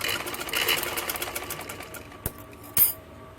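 A sewing machine runs a double line of stitching along a shalwar seam, a quiet steady mechanical whir with a couple of sharp clicks near the end.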